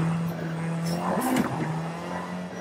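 A Volkswagen Golf GTI in Forza Horizon 5 drones at a steady engine pitch, with a brief tyre squeal and a quick rev change midway, close and continuous.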